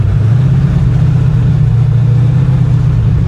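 Heavy, steady engine roar from a 560hp Chevrolet Impala, a formerly flooded car on its first drive, loud and close with a deep low rumble throughout and no voices.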